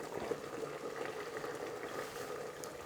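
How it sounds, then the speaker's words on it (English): Pasta water at a rapid boil in a large pot, a faint, continuous bubbling and gurgling with no talking. "Our water is at a rapid boil."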